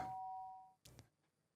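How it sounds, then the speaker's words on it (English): A two-tone doorbell chime in the Danganronpa video game rings once, sustained and clear, then fades into a short softer rustle. "The sharp sound of the doorbell pierced my sleepy haze and pulled me back to the real world."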